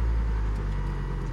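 A 2001 Volvo turbo AWD wagon engine running just after startup, a steady low rumble heard close with no talking.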